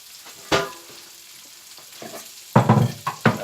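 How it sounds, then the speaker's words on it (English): Lamb sausages frying in a pan for a hot and spicy dish, sizzling steadily with a sharp burst near the start and louder crackling spurts toward the end. "as you can hear, the sausages and that are starting to really brown up and cook up nicely"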